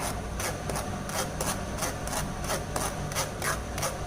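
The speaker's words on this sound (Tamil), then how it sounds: "இந்த மாதிரி நம்ம நல்லா ஃபில்ட்ரு பண்ணி எடுத்துக்கலாம்" Tomato pulp is worked through a sieve for homemade tomato sauce. A close, continuous rasping scrape pulses in quick regular strokes, each one scratchy and repeated steadily throughout.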